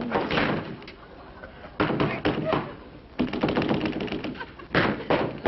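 Rapid knocking on a door in an old sitcom set in a honeymoon suite, coming in loud bursts of repeated raps separated by short pauses.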